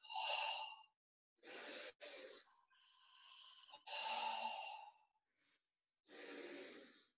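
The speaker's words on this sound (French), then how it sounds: "On se concentre sur sa respiration de abdominale qu'on va faire cinq fois." Deep abdominal breaths during a yoga class: soft, breathy exhales and inhales in separate bursts, close and quiet, with gaps of silence between them.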